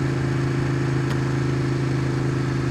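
A motorcycle passing in city traffic at night, heard as a loud, steady engine drone with strong low hum, heard from a rider's own Ducati 899 Panigale and constant throughout with no talk.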